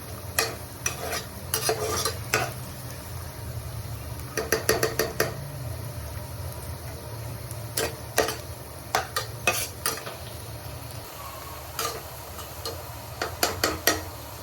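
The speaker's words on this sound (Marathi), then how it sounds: "कांदा असा पक्का फ्राय करायचा आहे त्याला" Onions fry in a pan with turmeric and Agri masala while being stirred, the spoon scraping and clicking in irregular bursts over a steady low sizzle.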